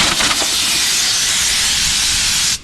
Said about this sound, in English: We're going to blow it off the best we can, get the dust off.